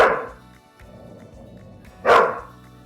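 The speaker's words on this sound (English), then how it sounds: "Sorry, my doggies are barking." Two loud dog barks, one at the start and another near the end, with quieter low rumbling and background noise in between.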